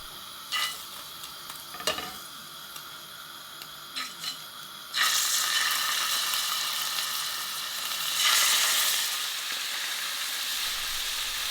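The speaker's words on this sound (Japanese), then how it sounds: "温めた鍋にオリーブオイルを入れてきっちりとソテーしていきます。" Several scraping knocks of a utensil in a pan, then a loud steady sizzle of veal frying in hot olive oil takes over and continues.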